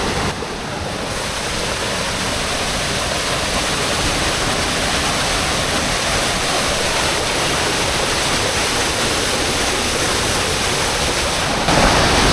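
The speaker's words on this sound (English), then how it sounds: "So this is a pretty crazy little waterfall." Small waterfall in New Zealand's Waikato bush rushing steadily and loudly up close, a dense unbroken roar of falling water holding level throughout with no voices.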